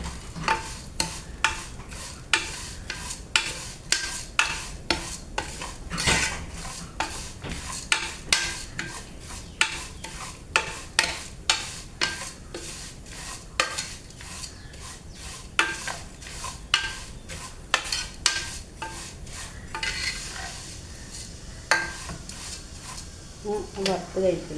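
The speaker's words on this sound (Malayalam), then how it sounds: "നമ്മൾ വറുത്തിട്ട് വരണം കേട്ടോ." Vermicelli for payasam is roasted in a pan, stirred with a steady run of quick scraping taps and clicks of a spoon against metal, with a voice talking intermittently.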